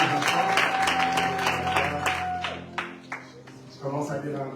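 Church congregation at a worship service clapping and cheering, a sustained wash of applause with a held tone that fades, then scattered claps and louder voices breaking through toward the end.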